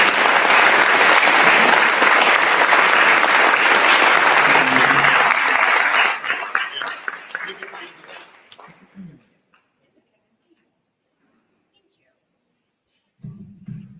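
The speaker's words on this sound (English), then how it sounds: "everybody give a good applause." A room of dinner guests at a Democratic party committee event breaks into loud, dense applause that runs for about six seconds, then thins into scattered claps and fades to silence, with a brief low sound near the end.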